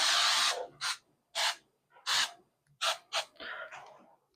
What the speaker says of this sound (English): spray this sucker real good.